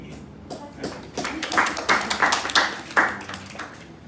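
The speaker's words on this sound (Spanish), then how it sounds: "Que no la aplauden con energía." A few students clap in class, a sparse run of separate hand claps in an uneven rhythm, close and moderately loud, rising and then trailing off.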